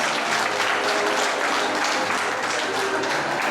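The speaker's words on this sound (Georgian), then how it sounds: "ეს აპლოდისმენტებიც მარკა ტრაპაიზიას ეკუთვნის" An audience at the Sairme 2025 international children's and youth music festival claps in dense, steady applause that fills the hall at an even loudness, with a voice faintly underneath.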